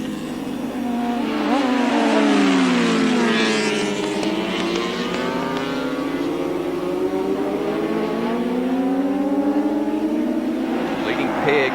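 Superbike racing motorcycles from a 1983 race scream past in a long, loud pass, their engine pitch rising and falling as they approach and pull away. A commentator's voice runs underneath.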